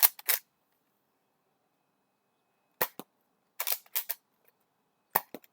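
Several sharp snapping shots from a foam dart toy blaster, in small bursts of one to three, separated by silence, close and fairly loud.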